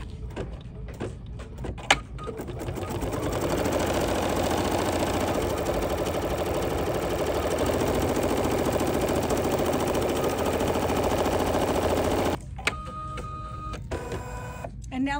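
An embroidery machine stitches an applique tree bucket pot onto a block held in a hoop, a steady loud mechanical whirring for most of the time, then stopping, with lighter clicks and handling noise before and after.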